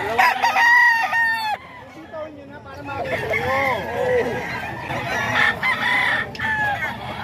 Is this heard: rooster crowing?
yes